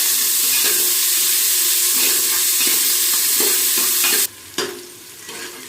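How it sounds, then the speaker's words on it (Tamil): Onions frying in a pan for mushroom biryani, a bright continuous sizzle with repeated scraping stirs, close and loud, then the hiss suddenly drops away near the end leaving only faint residual sounds. "வெங்காயம் வந்து லைட்டாக செவரணும் ரொம்ப செவர விடக்கூடாது லைட்டாக செவந்தால் போதும்"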